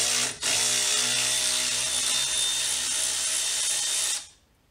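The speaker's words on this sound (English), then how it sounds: "So the next thing you want to do is take off your brake hose bolt." A power tool, likely an impact gun, unscrewing the brake hose bolt from a Ford Focus ST brake caliper: one loud, steady whirring burst of about four seconds after a brief start, then cutting off into quiet.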